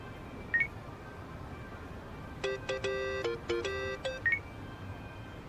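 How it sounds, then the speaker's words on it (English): A phone keypad in the Yakuza video game beeps through a quick run of dialing tones: a single beep, then two clustered bursts of bright electronic tones, then a final beep, with no talk. "Kasuga, call me on your phone."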